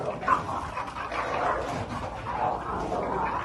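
Two dogs squaring up before a fight in an illegal dogfighting case, with a continuous muffled mix of whimpers, yips and low barking, moderately loud and steady throughout.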